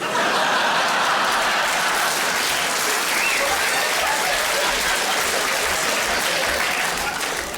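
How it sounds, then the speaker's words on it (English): A comedy club audience breaks into loud, sustained applause mixed with scattered chuckles and laughter, a thick continuous roar of many hands throughout. "I don't quite know what that round of applause was for."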